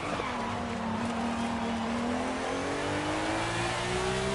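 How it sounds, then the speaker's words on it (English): McLaren Formula 1 engine in a racing video game revving continuously with a low growling tone that climbs slowly in pitch, loud and steady over tire noise, no talking. "The McLaren engine starts low like a bear's growl."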